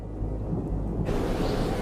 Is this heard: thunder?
yes